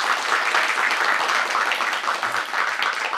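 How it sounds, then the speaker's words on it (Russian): A studio audience at a Belarusian television talk show applauds a folk choir, steady dense clapping filling the room at full volume with no pause for the whole stretch. "Ваши аплодисменты."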